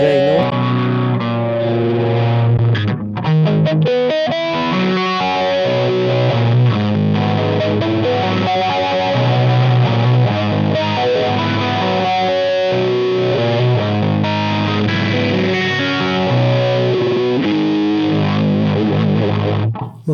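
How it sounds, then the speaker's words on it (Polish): An electric guitar played through a TONEX pedal with a phaser effect rings out loud and distorted, with sweeping chords and riffs continuing for about twenty seconds, and no voices. "wracam przed i teraz mamy phasing"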